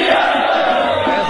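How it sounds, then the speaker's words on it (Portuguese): Football crowd in a stadium celebrating a championship title for the Confiança club, a loud, dense roar of cheering and shouting that stays sustained throughout. "A torcida tem mesmo motivos para comemorar."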